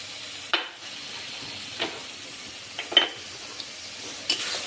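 Cauliflower and tengra fish curry with turmeric and salt sautéing in a pan, a soft steady sizzle broken by a few sharp spoon scrapes and clinks against the pot, no voices.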